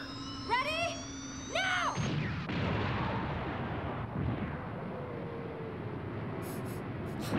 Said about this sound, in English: Open the throttle to full, then fire the gun!